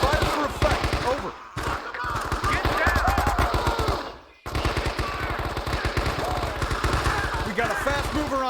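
Sustained gunfire and machine-gun bursts fill a Vietnam War combat game, rapid thumping shots continuing almost without pause, with shouted voices mixed into the din and a brief lull partway through.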